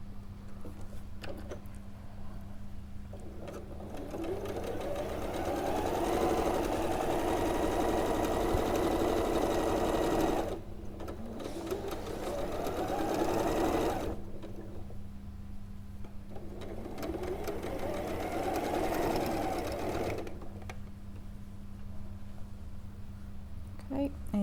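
A sewing machine stitches quilt fabric in three sustained runs, each speeding up from a slow start into a steady whirring hum and then stopping, with a constant low background drone.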